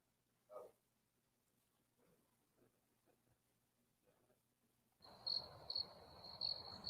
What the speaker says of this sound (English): Lovely crickets